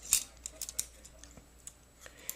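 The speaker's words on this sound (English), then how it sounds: "So what we will do then is take the scissors" Scissors snip into vinyl in a quick series of short, crisp clicks and cuts, close and fairly quiet, with no talking.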